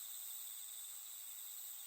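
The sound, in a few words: crickets and katydids chirping at night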